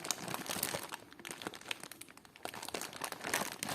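Close, irregular crinkling and rustling of a plastic bag of jewelry being handled, with no voices.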